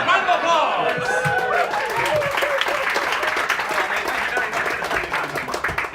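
Audience applause at a musical comedy show at The Phoenix: loud, dense clapping that holds steady for six seconds, with raised voices and whoops mixed into the crowd.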